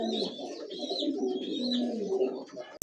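Domestic pigeons coo steadily and close by at a crowded pigeon market, with overlapping calls forming a continuous warbling drone and no talk.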